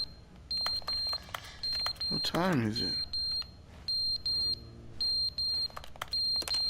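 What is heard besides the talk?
fire alarm going off, from video game The Stanley Parable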